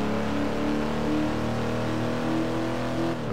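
A 1957 car engine in Test Drive Unlimited 2 revs steadily with a loud, sustained mid-pitched hum, rising slightly before easing off near the end, with no voices.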